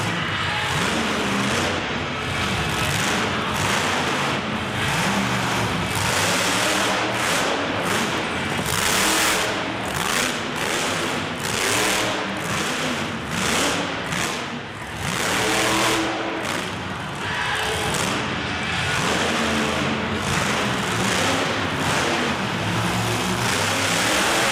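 Dirt Crew monster dump truck roaring through a freestyle run at Dow Events Center, its engine revving hard and continuously with loud, dense surges and a thick broadband arena roar throughout.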